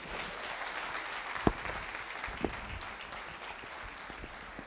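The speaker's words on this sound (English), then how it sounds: "A round of applause as she heads to her seat." Audience applause at a TEDx event at Nile University of Nigeria, a steady, even wash of clapping with a couple of sharp louder claps standing out.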